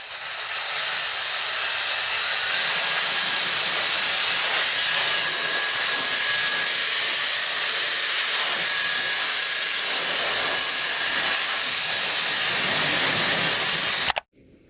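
A hot hair styling tool blows a loud, steady broadband hiss for about fourteen seconds, constant and close, with a faint whistling tone running through it before it cuts off abruptly.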